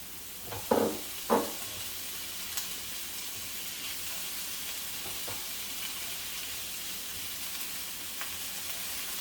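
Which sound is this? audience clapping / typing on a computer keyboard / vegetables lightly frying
vegetables lightly frying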